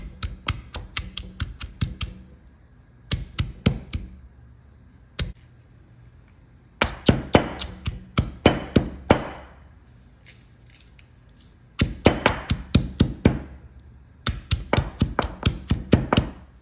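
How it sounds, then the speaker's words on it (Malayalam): Garlic, shallots and dried red chillies crushed in a mortar with a pestle: bursts of sharp, rapid pounding thuds, close and loud, separated by short pauses. "കുറച്ച് വറ്റൽമുളകും നമുക്കൊന്ന് ചതച്ചെടുക്കാം."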